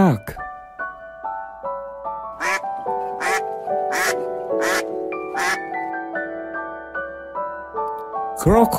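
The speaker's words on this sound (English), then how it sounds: "Duck." A duck gives repeated loud, raspy quacks in an irregular run, close and clear over soft tonal music, with another burst at the end.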